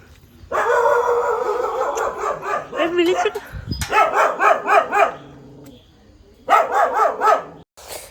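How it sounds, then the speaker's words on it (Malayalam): Two puppies bark and yip at a house on a night trip, bursts of high, repeated yaps close by, with pauses between volleys and some whimpering. "അവിടെ രണ്ട് പട്ടിക്കുട്ടന്മാരുണ്ട്"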